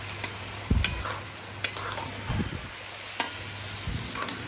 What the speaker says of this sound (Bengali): মশলা দিয়ে নাড়াচাড়া যখন হয়ে যাচ্ছে বাঁধাকপিটা অনেকটাই